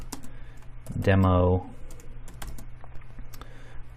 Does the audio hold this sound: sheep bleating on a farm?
no